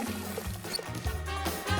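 Water is poured into an empty bottle at a steady, gurgling trickle that shifts in pitch as it fills, moderately quiet, with some background noise underneath.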